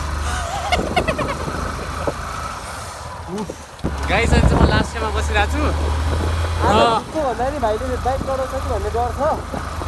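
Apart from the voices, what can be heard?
motorcycle engine while riding at night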